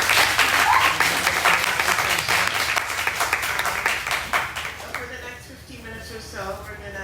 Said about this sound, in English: give a round of applause again.